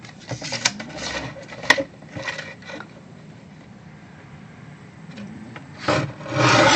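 Cardstock for a fold card being cut, a series of scraping, rasping strokes in bursts, then a quiet pause before another louder slicing pass at close range.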